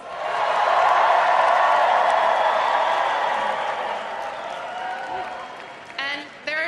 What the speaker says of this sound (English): So please join me in giving Zoran, our friend, a round of applause.